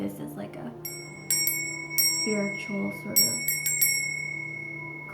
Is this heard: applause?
no